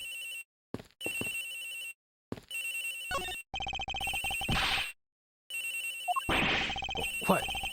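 A cell phone rings inside a locker in the Ace Attorney Investigations game, its repeating electronic ringtone sounding in clear bursts with short silent gaps between them.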